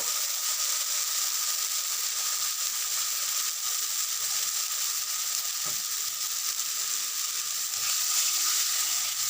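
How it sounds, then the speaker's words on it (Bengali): Tamarind water hits hot oil in a pan with a loud, steady, continuous sizzle and hiss that holds for several seconds, with a faint clink partway through. "এমনি তেলের মধ্যেই জাস্ট তেঁতুল গোলা জলটাকে ঢেলে দিতে হবে"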